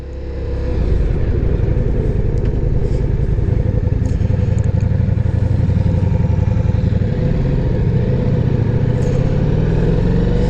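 A Ducati Diavel V4 motorcycle pulls away as the clutch is released, its loud, close engine note rising steadily and holding a deep, continuous rumble with no talking.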